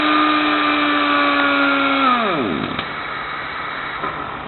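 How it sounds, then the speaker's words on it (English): A powered wrench runs at a steady whine while tightening a nut onto a stud, then slows and winds down as it reaches full torque, close and loud with no talk. "just showing you tightening it up and seeing the force come on the backup wrench"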